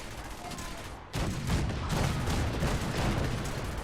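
Ship cannons aboard the USS Constitution firing in a video game, a dense burst of heavy booms and rumbling blasts that swells at about one second and keeps going loudly to the end.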